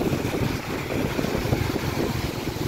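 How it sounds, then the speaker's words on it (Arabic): Strong wind blows through the city of Berkane, Morocco, on a cold, rainy night, a steady, loud rushing roar that continues without a break and with no voices. "واحد الريح راهي صوت تبارك الله"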